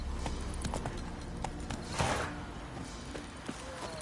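Horse hooves galloping in the video game The Witcher 3, a quick rhythmic clip-clop of steady hoofbeats under a continuous ambient game background.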